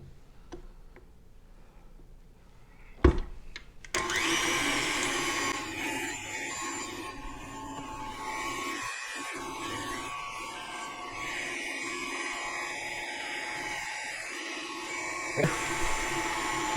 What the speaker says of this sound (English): I don't feel like the mixer's getting all the way to those edges.